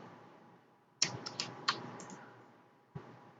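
A short burst of typing on a computer keyboard: a quick cluster of crisp key clicks after a quiet start, a pause, then one more tap, close and fairly faint.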